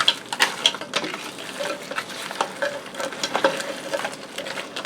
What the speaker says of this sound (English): I'm going to stir my broccoli in there